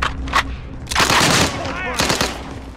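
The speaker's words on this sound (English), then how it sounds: "Who the fuck is shooting?" Rapid automatic gunfire in the Call of Duty: Rebirth Island video game comes in several loud, close bursts, with a player talking between them.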